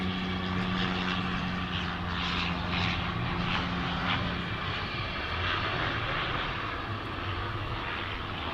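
A small propeller plane lands at DFW International Airport, a steady droning engine roar that stays loud and continuous throughout, with a low hum beneath and no voices.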